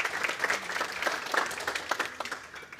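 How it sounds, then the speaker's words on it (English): An audience at a talk on MLOps in financial services breaks into applause, a moderate wash of overlapping hand claps that stays steady for a few seconds without speech. "So can we please just cheer her and give her a clap?"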